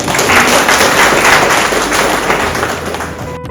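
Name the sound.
audience applause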